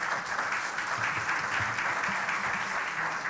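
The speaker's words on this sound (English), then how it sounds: "let's give Hilton a round of applause" A luncheon audience at an awards and scholarship event gives Hilton a round of applause. Dense, steady clapping fills the room at close range and holds evenly for several seconds, with no voices on top.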